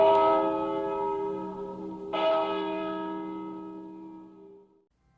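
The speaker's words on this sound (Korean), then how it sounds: "그때 지금껏 한 번도 들어본 적 없는 아름다운 종소리가 울리기 시작합니다." A church bell rings during a Christmas play, sounding two resonant strikes a couple of seconds apart, each ringing out loudly and fading slowly with no voices.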